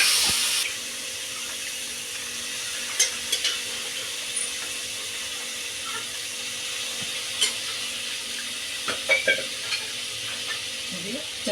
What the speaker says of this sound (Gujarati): હવે આપણે કુકર ખોલી અને મેથીનો વઘાર દેવાનો છે.